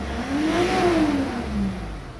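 A Mitsubishi Montero engine with a suction control valve fault, P0628 code and rough idle, revs up and eases back down in one smooth swell, loud and close with a rising then falling whine.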